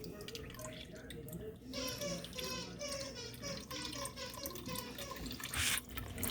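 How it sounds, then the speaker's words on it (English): Apple cider vinegar is strained through a strainer into a bowl, giving a steady wet trickle and drip of liquid up close, with some light handling sounds and a voice speaking over it. "So I'm straining all the stuff out of the vinegar now."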